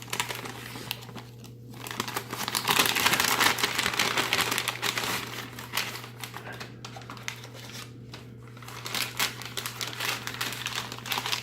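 Dark green plastic packaging of a vintage 1999 Sopakco civilian MRE being torn open and handled up close, loud crinkling and rustling in bursts over a steady low hum.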